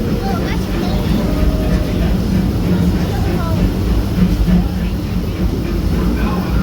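Onboard the Disneyland Railroad, a constant loud low rumble of the moving train fills the scene, with a faint steady clatter and scattered voices blending into the drone.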